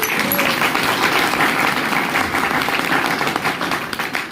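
Steady, loud applause from an audience at a Hindi-language meeting, dense clapping holding evenly for the whole stretch with no voices breaking through.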